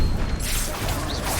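Bombarda spell cast in the Hogwarts Legacy video game: a brief, dense burst of blasting, rushing noise that stays loud and rumbling throughout.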